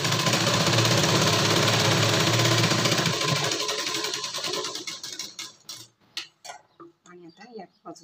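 A sewing machine runs a double seam on a blouse, a fast, even mechanical ticking whir for about four seconds that slows and fades, then a few separate clicks and handling noises.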